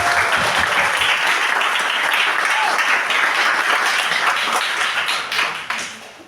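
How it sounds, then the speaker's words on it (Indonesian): A morning crowd at a Universitas Surabaya literacy event gives lively applause, a thick, close patter of many hands that stays strong before tapering off and dying away near the end. "Boleh berikan tepuk tangan yang meriah untuk kita semua."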